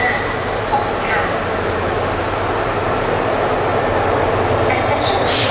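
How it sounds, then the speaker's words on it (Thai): A train pulls in at a platform on Thai railway, a constant low rumble and rolling wheel noise close by, with faint squeals and a public-address voice over the top. "รถไฟขบวนถัดไปที่จะเข้าเทียบชานชาลาหมายเลข 1"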